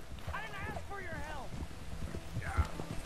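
A horse gallops in Red Dead Redemption 2, quick rhythmic hoof clip-clops running under a voice talking, with a short thump near the end.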